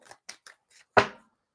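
A tarot card deck is shuffled, giving a few quick papery flicks followed by one louder riffling snap, close and alone.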